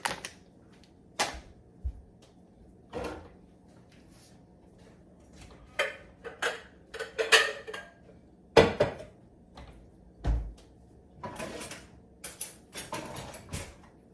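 In a home kitchen, a mixing bowl is taken from a cupboard: scattered clunks, a cabinet door and clattering dishes, close and sporadic with quiet gaps between.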